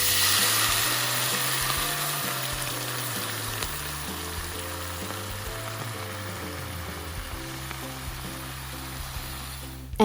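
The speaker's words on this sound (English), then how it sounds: "Now add 3/4 cup of cooking white wine," White wine hits a hot pan of steamed mussels in garlic butter, setting off a loud sizzle that gradually settles into a steady bubbling fry, with a clatter at the end.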